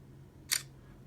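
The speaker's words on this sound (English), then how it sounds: "that is a fast shutter time" A single crisp electronic shutter click from a rose gold LG V10 phone camera, brief and close against a quiet room hum, with no talking.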